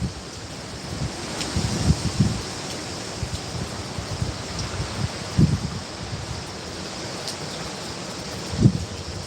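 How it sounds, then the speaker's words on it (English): Hurricane Ian's strong winds roar steadily across Lakeland, Florida, with a constant broadband rush broken by several louder gusts that buffet the microphone at irregular intervals. "That gust is coming now"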